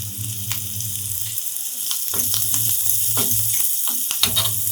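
Masala with Kashmiri red chilli and chopped coriander frying in a pan, a loud continuous sizzle with low bubbling pulses and occasional stirring clicks throughout.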